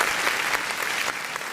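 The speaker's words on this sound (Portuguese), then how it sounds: "Quantos podem aplaudir o nome do Senhor Jesus?" A church congregation claps during an online Sunday service, a brief burst of dense, steady applause from a crowd in a hall, with no speech over it.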